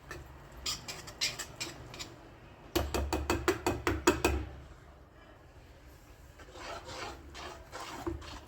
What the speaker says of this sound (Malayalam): നമുക്കൊരു തവി വെച്ച് ഇളക്കി കൊടുക്കാം